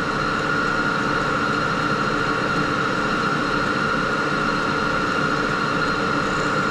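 A Criterion jig borer spins at 1800 RPM, taking a 1.5-thousandths cut under fine feed. It gives off a steady, loud mechanical whine and hiss that holds without a break and has no talk over it.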